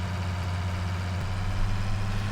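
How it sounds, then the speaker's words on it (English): A Ford tractor engine idles steadily in a survival video game, a low, even drone with a strong bass hum that holds constant, close and loud, with no talk over it. "we're going to the hospital in a tractor."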